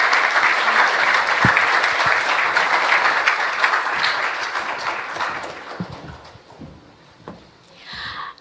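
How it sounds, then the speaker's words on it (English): Audience at an APEC summit event in the USA applauds the President of the Philippines with a full, sustained round of clapping that fades into a few scattered claps and shuffling. "another warm round of applause for the President of the Philippines"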